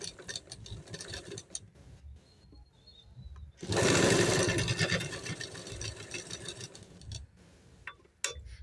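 A sewing machine stitches a lined kurti in short, quiet bursts of whirring, with a louder sustained run in the middle, between pauses and faint handling noises.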